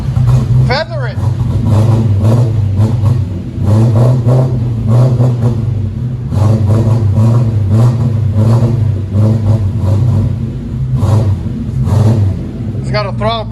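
A 1993 Lexus SC 400 V8 with dual exhaust and a muffler delete revs repeatedly in deep, throaty surges between idle dips, close and loud, while people talk around it.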